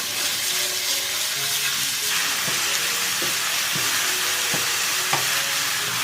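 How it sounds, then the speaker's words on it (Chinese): Minced beef and pork belly stir-fry in hot oil, producing a loud, dense, continuous sizzle and hiss with a few dull spatula knocks against the wok, and no voices. "把我们的肉呢放进来炒香"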